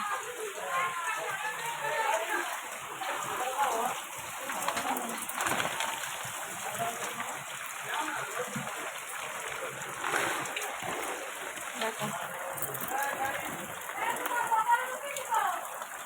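Rainwater floods homes after a full day of rain, a steady broadband wash of splashing and running water that lasts throughout, with voices talking over it.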